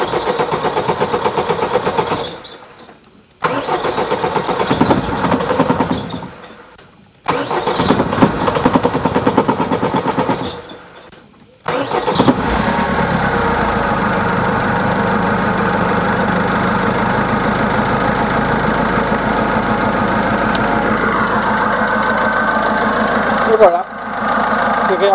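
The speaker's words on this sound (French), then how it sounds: "je vais donner 2-3 coups de démarreur" A Peugeot 207 1.6 HDi diesel engine cranks in three loud bursts separated by short pauses, then catches and settles into a steady, rough idle heard up close.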